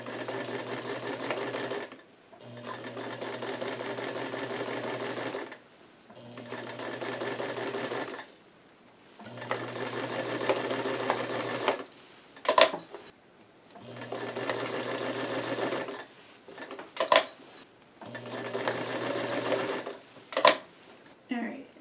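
A sewing machine stitches the seams of a newsboy cap in repeated bursts of steady whirring, each run lasting a few seconds with short pauses between them, close and clear, with some handling clicks in the later part.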